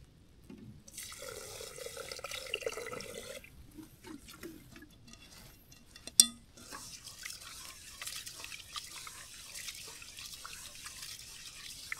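Mountain spring water trickles and drips into a storage container, a faint, steady patter and splash heard close with no voices.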